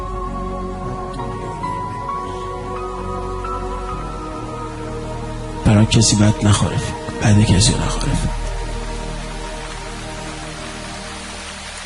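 Steady rain patters on a surface throughout, under someone speaking, with louder bursts partway through.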